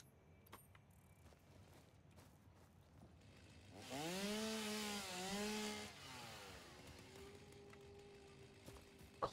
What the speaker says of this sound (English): Let me get my chainsaw on.